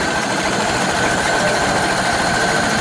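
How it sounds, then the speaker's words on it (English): A 1929 Ford Model A engine idles close by, a smooth continuous rumble with a fine rapid ticking and no pauses or changes in speed. "That's a smooth running engine."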